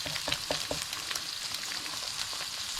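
A single egg frying for an Aussie burger, a continuous bright hiss and spatter with light pops, close and steady with no talking.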